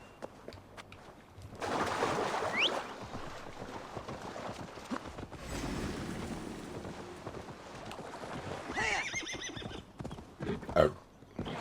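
Hooves clip-clop in a steady galloping rhythm with occasional whinnies, over windy outdoor ambience, with no talking, from a horse in the video game Assassin's Creed Valhalla.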